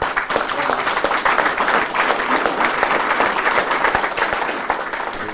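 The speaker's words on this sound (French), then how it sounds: "ces applaudissements se passent de commentaires" A large audience applauding steadily, dense clapping sustained at an even, loud level throughout with no voices standing out.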